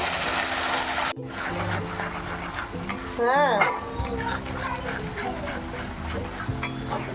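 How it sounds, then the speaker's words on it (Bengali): A ginger, garlic and onion paste goes into hot oil with whole spices and fries with a sizzle, while a spoon clinks and scrapes against the pan; a voice speaks over it and a brief squeaky whine cuts in. "আর এখানে মশলা পেস্ট করে নিয়েছি আদা, রসুন আর পেঁয়াজ। তো এবার মশলাটা দিয়ে দিচ্ছি।"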